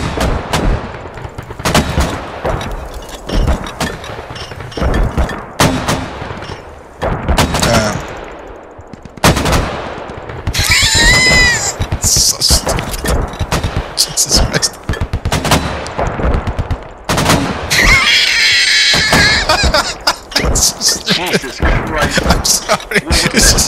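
Huge mortar barrage in the video game Squad: repeated loud booming impacts and blasts with crackling gunfire all around, while players talk over the chaos.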